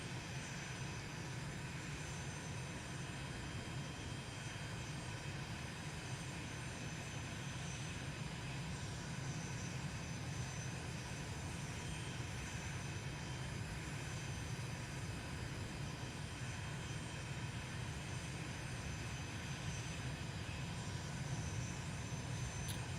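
Airplane engines in a flight simulator game at takeoff, a steady broadband engine roar and hum held at an even level, with no voices.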